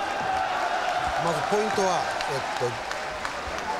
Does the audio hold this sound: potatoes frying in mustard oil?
no